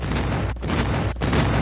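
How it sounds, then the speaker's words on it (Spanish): Airstrike explosions in Call of Duty: Mobile, heavy rumbling booms rolling into one another, loud and close, with short dips between blasts. "Friendly airstrike incoming."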